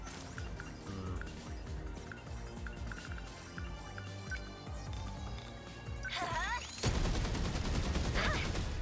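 Sentry guns in 13 Sentinels: Aegis Rim rattle off rapid bursts of fire in the mid-distance beneath game music. A louder, denser burst swells near the end.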